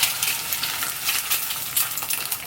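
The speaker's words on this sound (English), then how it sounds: "there's my egg with ghee, and you'll notice the egg is popping" An egg fries in hot ghee in a pan, a continuous loud sizzle broken by frequent sharp pops and crackles spattering at irregular intervals, with no voices.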